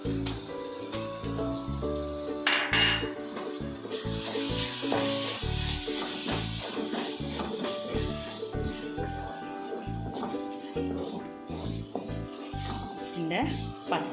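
Crushed ginger and garlic sauté in hot oil while cooking Kerala-style kappa biriyani, giving a continuous soft sizzle under a speaking voice and steady background music.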